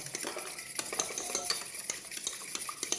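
Eggs and milk are whisked together in a bowl, the utensil scraping and clinking against the sides in quick, continuous strokes, close and alone for the whole stretch.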